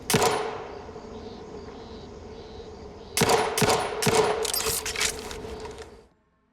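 A gun fires from stealth in The Outer Worlds 2 video game: one sharp shot opens, then after a quieter stretch a rapid cluster of close gunshots rattles out before the sound cuts off.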